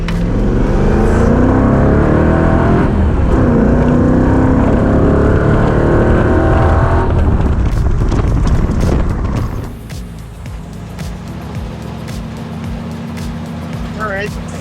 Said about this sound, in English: second drive on the freeway and the Mustang's doing really good